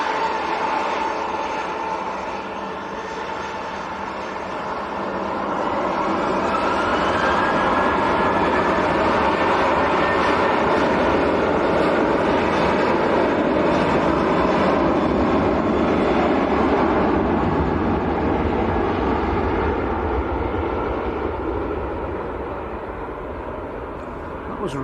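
A Ryanair jet departs Manchester Airport bound for Bologna, its broad engine roar swelling steadily and holding loud for most of the stretch before easing slightly at the end, with a voice talking intermittently beneath it.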